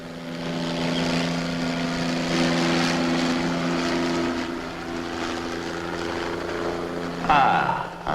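A helicopter's steady engine and rotor drone holds loud and continuous overhead above the North Sea setting, with a brief louder swell near the end.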